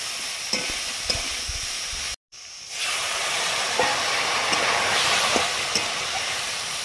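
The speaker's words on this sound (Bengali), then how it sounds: "জলটা দিলাম, অল্প একটু জল দিচ্ছি।" Water poured into a hot pan of ground spice paste with dried red chillies, cumin, coriander, mustard and pepper bursts into a loud, sustained steam hiss and sizzle after a short gap, with light stirring clicks.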